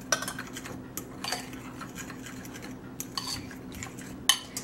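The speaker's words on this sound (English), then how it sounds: "you want to mix your dry ingredients together" A utensil scrapes and taps against a bowl while dry muffin ingredients such as tiger nut flour are stirred together, soft scratchy stirring broken by a few sharp clinks, close and fairly quiet.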